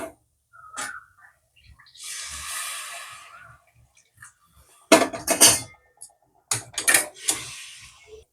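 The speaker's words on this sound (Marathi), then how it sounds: "याच्यात आपण आता गरम पाणी घालूया." Hot water is poured into sizzling masala in a pan while cooking paneer tikka masala, a sudden loud hiss and splutter with clanks of utensils and quiet kitchen handling around it.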